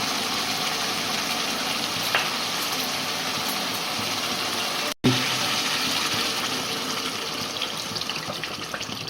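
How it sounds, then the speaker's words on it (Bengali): Water poured slowly and steadily into a cooking pot while preparing a rohu fish curry, a continuous soft trickling stream with one brief break midway, close and fairly loud. "জলটা দেওয়া হবে এরকমভাবে এরমভাবে দেবেন আস্তে আস্তে করে একটু একটু করে আস্তে একটু করে দিয়ে নড়াবেন"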